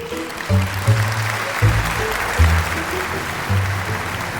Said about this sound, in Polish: Wielkie dzięki i wielkie brawa.